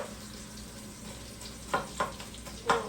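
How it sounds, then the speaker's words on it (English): Frozen spinach sizzles softly in a pan while a spoon breaks it up, with three distinct scraping taps near the end. "So I'm just going to break this up with my spoon."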